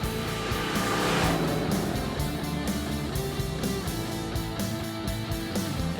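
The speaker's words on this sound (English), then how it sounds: "this muscle car doing what it does best, tearing up the road" A 1990 Fox Body Mustang muscle car drives down a public road, its engine a dense, steady rumble that stays loud throughout and swells slightly near the start, with no voices over it.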